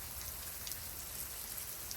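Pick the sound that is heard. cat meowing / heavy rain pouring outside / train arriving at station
heavy rain pouring outside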